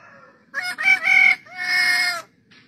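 A cockatoo imitates a rooster's crow, giving a loud, near, drawn-out cock-a-doodle-doo in several strained segments followed by a faint short call, with no talking.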